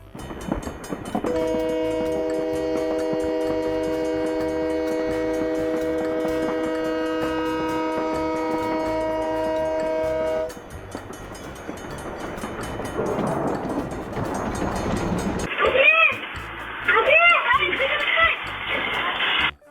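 A train horn blares in one long sustained blast at a railway crossing with its alarm active as a truck crosses, followed by the rumble of the passing train and loud screeching bursts.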